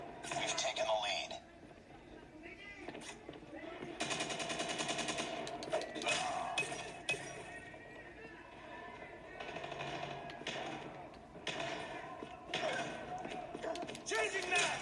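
Rapid automatic gunfire from the Call of Duty Mobile game, bursts of rattling shots coming and going over busy game effects, with a player talking excitedly throughout.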